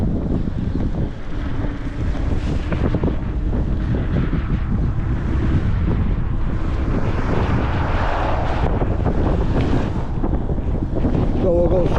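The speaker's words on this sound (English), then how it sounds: "It's very windy." Strong gusts buffet the microphone during an e-bike ride along a bike path near Haledon, New Jersey, producing a continuous loud low roar that swells and dips throughout.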